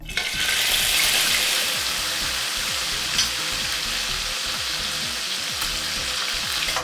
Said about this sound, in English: I'm just going to put about half a cup of peanut oil, my gizzard.